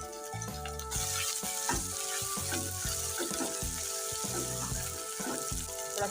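Chopped onion with ginger garlic paste sizzles in hot oil in a pan, a steady close frying hiss with stirring clatter over light music.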